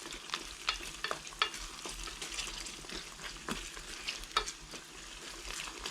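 Onions frying in a pan and being stirred, a close, soft sizzle with irregular scraping and clacking strokes from the spoon throughout.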